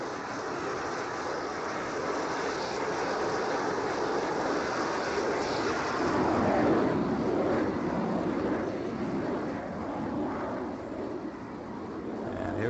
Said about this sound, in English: There it is. There's the jet.